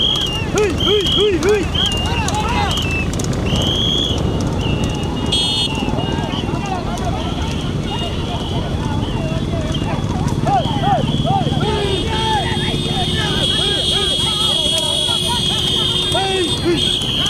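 Horse hooves clip-clop rapidly during a horse race in Pudukkottai, Tamil Nadu, under loud continuous crowd noise and excited commentary, with whistles and an alarm-like tone piercing through.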